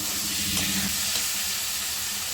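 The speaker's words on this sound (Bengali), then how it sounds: "হলুদ কাঠি কচুর সঙ্গে লঙ্কা টমেটোকে ভালো করে কষিয়ে নেব" Kochu sautéing with chilli and tomato in a pan makes a loud, even hiss of sizzling and steam that stays constant throughout, with faint stirring scrapes beneath it and no voices.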